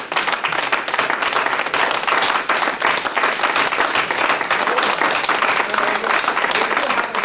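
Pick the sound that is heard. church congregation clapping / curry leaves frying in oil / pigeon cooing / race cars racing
church congregation clapping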